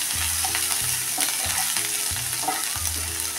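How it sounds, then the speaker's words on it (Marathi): Ginger, garlic and green chilli sauté in a pan with a constant bright sizzle, while a spatula stirs and scrapes in a steady, repeating rhythm close by. "आलं, लसूण, हिरवी मिरची पहिल्यांदा यामध्ये टाकून परतून घेऊया।"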